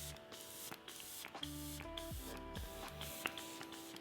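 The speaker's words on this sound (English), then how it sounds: "Let's do the first spritz. I'm gonna use the Professional setting spray." A makeup setting spray is misted onto a face in several short, soft hissing spritzes spaced through a few seconds, faint and close over a quiet electrical hum, with no talking.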